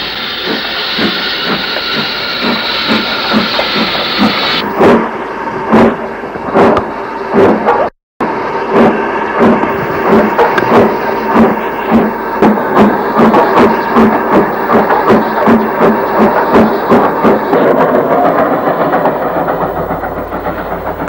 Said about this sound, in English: A Denbigh-bound train is seen from the siding on the upside